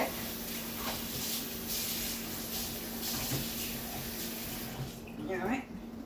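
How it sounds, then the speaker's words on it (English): Cold tap water running into a kitchen sink over cooked pasta, a steady faint hiss and splash that continues throughout and eases near the end, with quiet talk underneath. "I'm just going to rinse off the pasta a little bit with some cold water so it doesn't stick"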